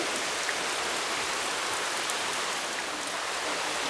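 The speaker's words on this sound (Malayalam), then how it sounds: "നല്ല മഴ ദിവസമായിട്ട് അവിടെ കണ്ടോ, മഴ പെയ്തുകൊണ്ടിരിക്കുക" Dense, even hiss of steady rain falling on surfaces, unbroken for the whole stretch with no voices.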